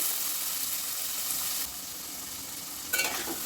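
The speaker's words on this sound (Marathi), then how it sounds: "आणि हलवून घेऊया, परतून घेऊया." Fresh green peas sautéed in a pan over medium heat give a steady bright sizzle, stirred with a couple of brief scraping bursts partway through and near the end, close and fairly loud, with no voices.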